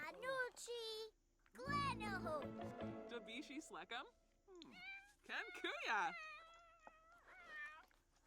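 A cat meows repeatedly in the video game The Sims 4 Cottage Living, with drawn-out, wavering cries that alternate and overlap with a person talking nearby.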